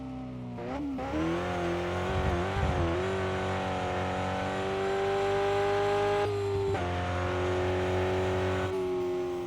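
Car engine in the RevHead racing video game, a CV8 motor, revs and holds a strong, steady drone while pulling uphill, rising in pitch with a couple of brief dips as it shifts, close and loud throughout.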